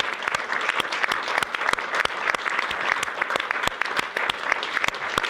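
Studio audience applauding, a dense, steady burst of clapping from a crowd lasting several seconds with no talk over it.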